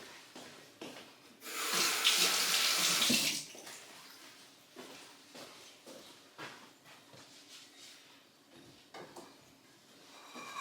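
Water runs from a kitchen tap for a couple of seconds, a bright rushing gush close by, followed by quieter clinks, taps and handling sounds of cooking preparation.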